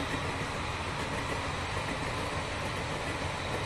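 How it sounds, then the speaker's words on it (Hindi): A steady, broad rumble and roar of a train passing beside a four-lane road between Patna and Gaya, continuous and fairly distant, with no clear gaps. "देखिए यहाँ ट्रेन भी क्रॉस कर रहा"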